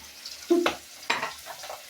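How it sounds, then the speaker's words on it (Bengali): Pieces of air fish fry in hot oil in a pan, giving a few short spattering sizzle bursts close by over a quiet background. "তো গাইস দেখুন আমার মাছ ভাজা"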